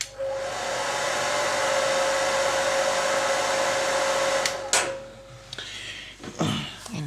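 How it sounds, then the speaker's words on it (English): A small hair dryer blows with a steady, loud whir for several seconds, drying paint on a miniature figure, then cuts off, followed by a few light handling clatters. "I will use as usual my little hair dryer"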